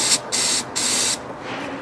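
Two short, loud hissing bursts of aerosol spray are aimed into an engine's air intake throttle horn, then a quieter tail of hiss as the can releases, heard up close.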